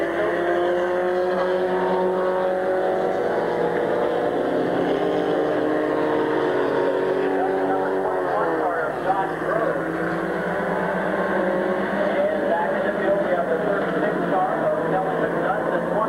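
Race cars roaring around Midvale Speedway, a loud continuous engine drone that rises and falls as the pack passes, with a commentator talking over it throughout.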